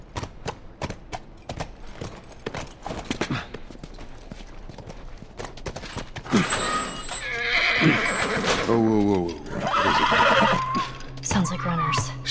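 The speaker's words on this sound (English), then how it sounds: "Stay with the horse." Horse neighing and clip-clopping hooves in The Last of Us Part 1 video game, with whinnies rising loud over a steady backdrop of hoof steps and game ambience, while voices talk through the scene.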